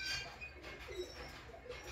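Teddy pigeons perched overhead in a loft give soft, low coos against a steady background hiss, faint and continuous with no voices.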